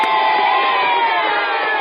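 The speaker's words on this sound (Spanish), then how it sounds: "¡Aplausos," An audience at a children's storytelling event cheers and shouts loudly and continuously, young voices dominating the crowd noise.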